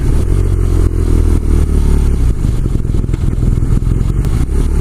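A BMW R nineT Cafe Racer motorcycle being ridden through corners, its engine droning steadily and loudly close up, with wind rush and rattling over the whole stretch.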